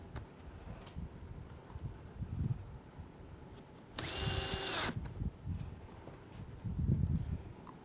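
A power drill driving a screw during an assembly job gives one sharp whirring burst of about a second, close and loud above a low background hum, with quieter handling noises before and after.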